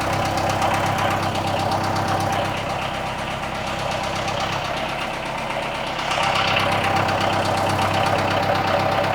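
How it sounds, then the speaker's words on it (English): An old motor runs steadily with a knocking, rattling idle and a buzzing vibration, close and continuous, dipping slightly in the middle before swelling back. "That motor seems to work"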